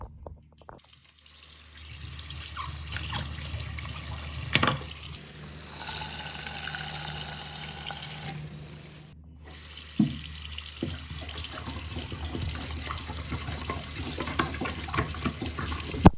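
Tap water runs steadily into a sink while drain P-trap parts are rinsed under it, a close, continuous splashing stream with clunks of handled plastic pieces and a short break midway.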